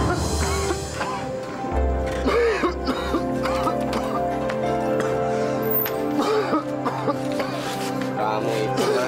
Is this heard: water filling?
no